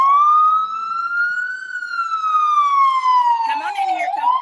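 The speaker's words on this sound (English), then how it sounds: "here comes the ambulance" An ambulance siren wails loud and near on a New York City street, its tone rising and falling as the vehicle passes, with brief background noise near the end.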